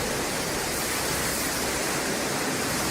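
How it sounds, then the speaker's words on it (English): Wind-driven rain during a destructive storm, a steady, dense roaring hiss that stays even and unbroken throughout, with no voices. "More footage of the wind and rain."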